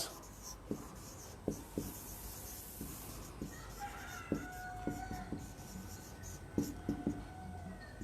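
Pen scratching out accounting entries by hand on paper, a quiet run of scattered taps and short strokes against a low room hiss, with no talking.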